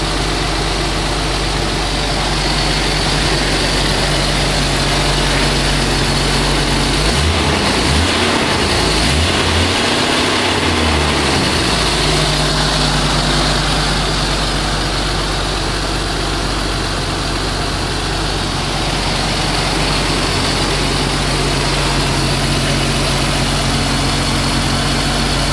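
A leaky Jeep's engine runs at a steady, loud idle close by, a constant low rumble with a brief lower throb partway through and no voices.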